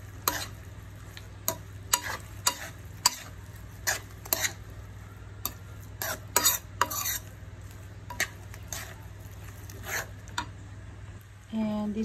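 Bopis with annatto powder is stirred in a pan: sharp, intermittent scrapes and clacks of a utensil sound at irregular intervals over a faint, low background hum.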